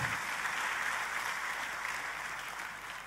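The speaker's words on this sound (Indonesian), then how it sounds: "Tepuk tangannya yang paling meriah." Applause from a church congregation during a sermon, a dense, steady wash of clapping that holds evenly for about three seconds and tapers slightly at the end, with no voices over it.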